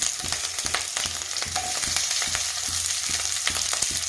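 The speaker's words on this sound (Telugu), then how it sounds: "తాలింపు వేస్తున్నానండి పప్పుకి కరివేపాకు అన్నీ వేసేస్తున్నానండి" Hot oil sizzles and crackles steadily as spices and curry leaves are stirred through it for tempering dal, a close, continuous frying hiss with scraping stirs.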